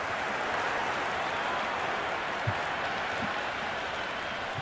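Applause from a large cricket crowd at a T20 match between RCB and Mumbai Indians, a steady broad wash of clapping that holds at an even level throughout, distant and diffuse, with no voices over it.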